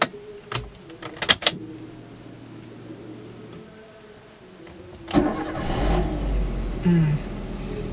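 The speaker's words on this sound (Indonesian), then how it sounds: "kita coba nyalakan mesin mobilnya ya gengs" A Daihatsu Xenia with a 1300 cc four-cylinder engine cranks and fires up partway through after a few clicks and knocks, then settles into a steady, close idle with a brief rise in revs near the end.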